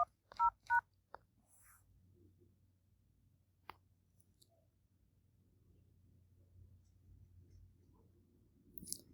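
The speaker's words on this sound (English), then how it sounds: "So I'm just going to dial" Mobile phone keypad tones while a Telecel Cash mobile money code is dialed: a few quick, close beeps at the start, then near silence with a low background hum.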